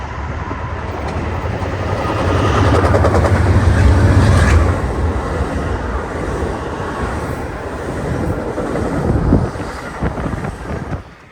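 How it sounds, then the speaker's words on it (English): Amtrak passenger train led by two P42 locomotives passing close by, a broad rushing roar with heavy wind buffeting on the microphone, swelling around the middle and then holding steady as the cars go by. "The next train was an Amtrak, surprisingly, led by 2 P42s with an all pre-charger lash-up."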